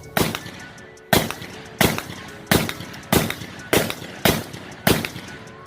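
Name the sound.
gunfire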